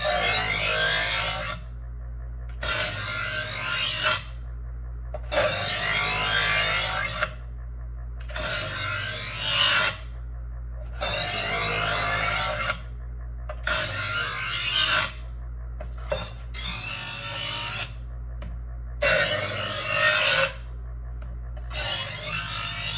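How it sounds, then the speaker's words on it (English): A knife blade is drawn through the slots of a Presto EverSharp 08800 electric knife sharpener, giving repeated close rasping grinds of a second or two each, separated by short gaps, over a steady low motor hum. "You draw the blade through each slot a few times."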